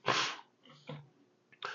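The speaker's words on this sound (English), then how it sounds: "Now he just sneezed." An iguana's sharp, breathy sneeze bursts out close up, followed by a couple of softer snuffling breaths and a short huff at the end.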